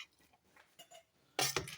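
Chicken potato pulao is dished out, with soft scraping at first and then a couple of louder, close metallic clinks of a serving spoon against a pot or plate near the end, with no speech.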